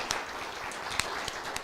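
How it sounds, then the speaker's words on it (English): Faint, scattered clapping from a small audience at a school board of education meeting, thin and uneven with a few distinct claps standing out over room noise. "Please give all of these amazing educators a round of applause."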